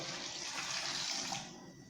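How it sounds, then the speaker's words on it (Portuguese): Water is poured over diced green papaya for a Brazilian green papaya sweet, making a steady close splashing and gushing that runs for about a second and a half before tapering off. "Colocar mais um pouco de água,"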